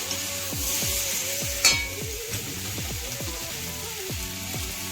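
Mixed vegetables sizzle steadily in a hot pan, with a soft continuous crackle and a few brief clinks, no voices.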